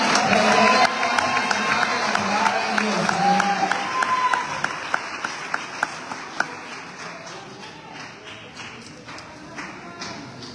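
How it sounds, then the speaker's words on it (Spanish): Applause from a church congregation at a morning service welcoming a pastor, a full burst of clapping with some cheering and voices that thins out into scattered, sharper individual claps as it fades. "Den un fuerte aplauso"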